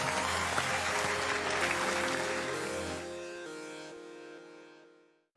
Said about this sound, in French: c'est des applaudissements que je viens d'entendre.